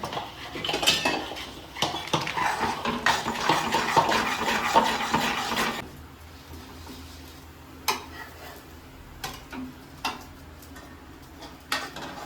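Plates and pots clatter in a home kitchen during an evening meal, with a dense stretch of clinking dishes and cutlery giving way to a few sharp, separate knocks of crockery, moderately close.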